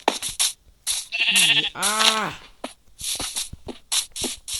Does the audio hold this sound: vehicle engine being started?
no